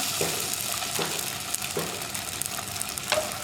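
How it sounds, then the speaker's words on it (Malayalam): Sago pearls roasting in ghee in a pan for semiya payasam give a steady, moderate sizzle with a few soft stirring scrapes, and no voices. "ചവ്വരി ഒന്ന് റോസ്റ്റ് ചെയ്തെടുക്കാൻ വേണ്ടിയാണ് നമ്മൾ ഈ നെയ്യ് ചേർത്തിട്ടുള്ളത്."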